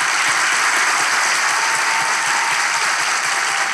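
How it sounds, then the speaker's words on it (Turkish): A studio audience bursts into steady, dense applause at the close of a Turkish relationship-test comedy show, loud and unbroken from start to finish. "Alkışlarla!"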